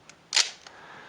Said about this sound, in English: Has a nice shutter sound.